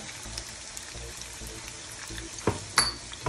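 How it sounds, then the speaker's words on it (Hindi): Onions fry in a pan, a continuous close crackling sizzle with a few louder spatters and stirring clatters near the end. "ऑनियन को हम पकने देंगे, इसको हल्का ब्राउन करेंगे"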